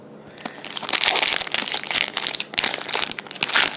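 A Yu-Gi-Oh Duelist Genesis 1st Edition booster pack wrapper crinkles and tears open up close, bursts of crisp plastic crackling with brief pauses, loud and alone.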